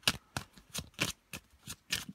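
Tarot cards shuffled by hand in a quick, uneven series of crisp riffling bursts, close and fairly quiet, with no talking.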